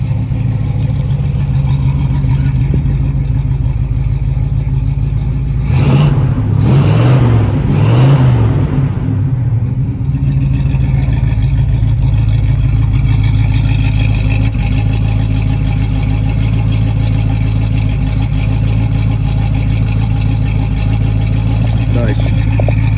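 A 1968 Pontiac Firebird engine idles steadily, then gets several quick throttle blips that rise and fall before settling back to a loud, even idle.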